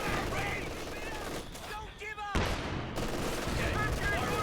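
Dense video-game battle fire, with rapid machine-gun bursts and booming artillery barrage impacts rolling almost continuously and loud, under a commentator's talk.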